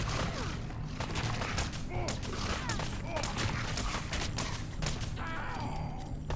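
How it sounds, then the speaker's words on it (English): Pipe rifle gunshots in Fallout 4 crack out in a rapid, irregular string of sharp reports, fairly loud and dense, with faint game sounds between shots. "I'm shooting them with a pipe rifle."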